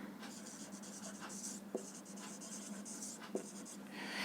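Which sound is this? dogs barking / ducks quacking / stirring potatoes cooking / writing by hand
writing by hand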